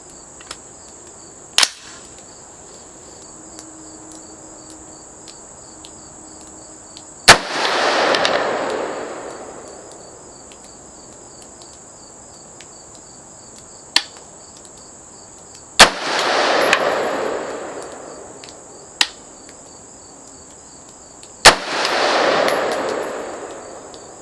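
AR-15 rifle firing Federal 55 grain soft point ammunition on a range: four loud sharp shots spaced several seconds apart, each trailed by a long decaying echo, with fainter distant pops from other shooters between them.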